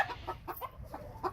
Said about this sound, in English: rare game fowl birds. They're a rare breed.